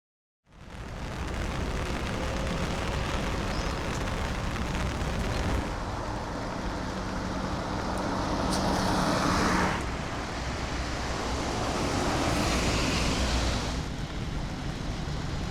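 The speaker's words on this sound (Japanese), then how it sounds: "雨が降ってますね。" Steady rain falls outside a small camping trailer parked beside a busy road, a dense continuous hiss throughout with passing cars swelling the noise now and then.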